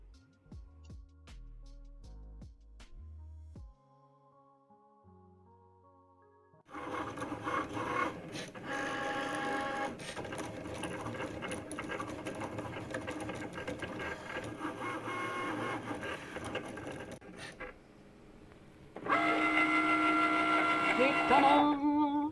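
A Cricut Maker scans and cuts a sticker sheet, giving a steady mechanical whir of carriage motion and buzzing that runs for about ten seconds, then pauses briefly and resumes louder near the end.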